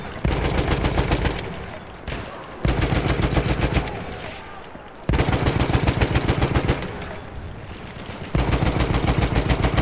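Rapid automatic gunfire in the Battlefield 1 multiplayer game, several long loud bursts of fast rhythmic shots with brief gaps between them.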